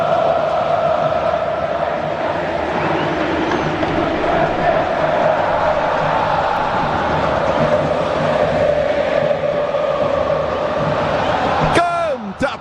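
A dense crowd of football fans roars steadily at São Paulo's Morumbi stadium during a Campeonato Paulista quarter-final. The chanting and cheering holds loud and unbroken, and a broadcaster's voice talks over it.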